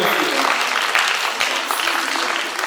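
Steady applause from a small concert audience, dense and continuous clapping at moderate loudness throughout, with no break.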